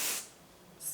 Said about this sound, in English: perfect medium spray and just spray that in